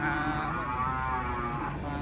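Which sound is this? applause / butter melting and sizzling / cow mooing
cow mooing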